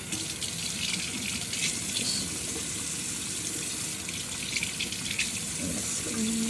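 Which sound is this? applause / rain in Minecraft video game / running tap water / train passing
running tap water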